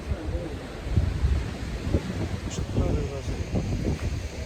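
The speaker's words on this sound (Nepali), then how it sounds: "आज पनि यस्तो हावा उडिरहेको छ" Gusty wind buffeting the microphone in low rumbling bursts at a dusty riverside, with a voice talking over it.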